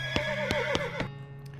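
A horse whinnies in the Wild West video game West of Loathing, a wavering, drawn-out neigh over a few crisp clip-clop hoof taps, clear and close, with no voices.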